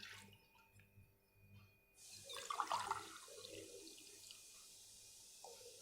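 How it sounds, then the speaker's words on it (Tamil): Water poured from tumblers into a pot for boiling in a traditional kitchen, a sudden splashing gush that rises and then settles into a softer trickle and drip, heard close with no talk. "இதில் இப்போ தண்ணி கொதிக்க வைக்கிறதுக்கு 6 டம்ளர் தண்ணி ஊற்றிக்கிறோங்க"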